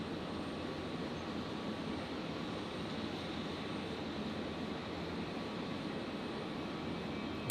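A Qantas airliner arriving from Sydney touches down at night on runway 19 left at Brisbane, a continuous distant broadband jet rumble with a faint hiss, steady and moderately quiet throughout.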